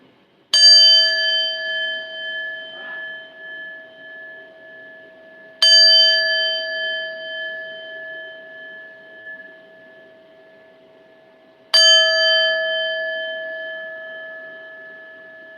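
Three chime strikes with rose quartz, evenly spaced about five seconds apart, each ringing bright and clear then slowly fading with a long shimmering decay, heard alone in a quiet room.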